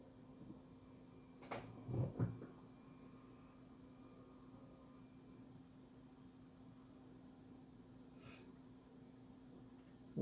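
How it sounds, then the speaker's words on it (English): A chair in a quiet amateur radio room at night squeaks in a short cluster of two or three creaks early on, then falls silent apart from a steady electrical hum. "Squeaky chair."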